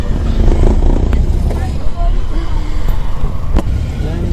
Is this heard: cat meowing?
no